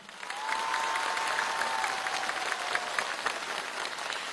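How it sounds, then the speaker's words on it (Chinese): A concert audience applauds the conductor in a hall before a Chinese orchestra performance, with dense sustained clapping at moderate distance, steady throughout and fading slightly at the end. "把掌声送给他"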